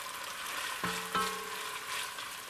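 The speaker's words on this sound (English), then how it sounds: "at this point, we're going to go in with all of our chopped onions. And you want to stir those around." Chopped onions fry in a pan with an even, moderate sizzle and a couple of brief stirring scrapes, close up and without voices.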